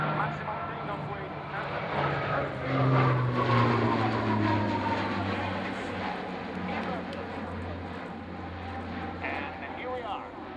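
A heavy aircraft of about 70,000 pounds maximum takeoff weight accelerates down the runway at an air show, a loud, sustained engine roar with rising tones under faint, indistinct voices.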